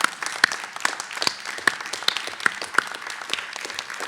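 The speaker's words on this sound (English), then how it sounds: "let's all give them a well-deserved round of applause too" A seated crowd at a utility cooperative's annual meeting claps steadily for employees, a dense patter of many hands at moderate distance with individual sharp claps standing out, no voices.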